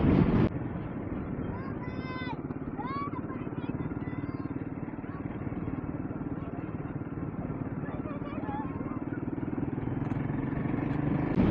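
A Royal Enfield Himalayan 450 cruises on a trip from Maharashtra to Gujarat. The engine drones steadily throughout, mixed with wind rush, and a few brief voice sounds come early on.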